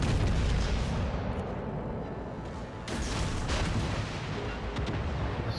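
Warship main guns fire in World of Warships: Legends, a heavy continuous barrage of deep booms and rumbling blasts, with a sharp new volley breaking in midway.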